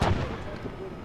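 Apache attack helicopters firing on targets to the north in a military video game, a single heavy boom with a rumbling tail, moderately loud and close, with talk happening around it.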